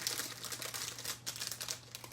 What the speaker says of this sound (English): Sorry about the paper bag. Noisy.